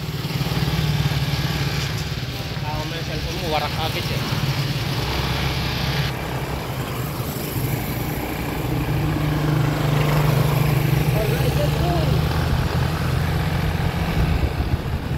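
Motorcycle engine running steadily and loud throughout as a passenger rides, with people talking and shouting over the constant drone.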